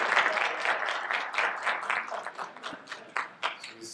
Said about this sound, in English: maybe a little applause.